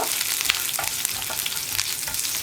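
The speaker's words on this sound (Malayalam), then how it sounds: "2 തണ്ട് കറിവേപ്പില, ഒരു 4 വറ്റൽമുളക് ഇതൊക്കെ ചേർത്തിട്ട് നന്നായിട്ടൊന്ന് ഇളക്കി കൊടുക്കുക" Curry leaves and dried red chillies stirred in a hot pan for a Kerala tapioca curry, giving a steady close sizzle with scraping spoon strokes throughout, no voices.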